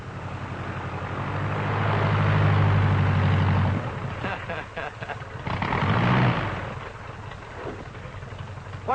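A new aircraft engine on an old 1940s film soundtrack swells into a loud droning roar, fades, then surges briefly again beside muffled voices and background noise.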